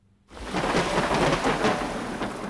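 A thunderstorm with heavy rain breaks in after a brief near-silence: a dense, steady downpour with rolling thunder rumbling underneath, loud and sustained to the end.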